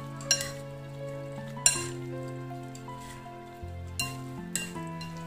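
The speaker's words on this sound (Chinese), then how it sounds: "然后用筷子炒拌均匀" Noodles with chilli and green pepper strips, onion, coriander and a poured sauce being tossed with chopsticks, bringing occasional sharp clinks and taps against the bowl over a low sustained hum, with no talking.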